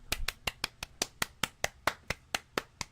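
Steady, evenly spaced claps from a single pair of hands, about five per second, close and crisp, with no crowd behind them.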